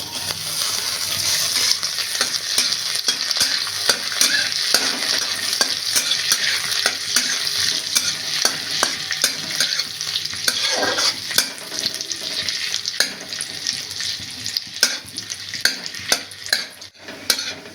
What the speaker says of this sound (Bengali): এবার যেই কাজু আর কিশমিশ রেখেছিলাম সেগুলো সামান্য একটু ভেজে নেব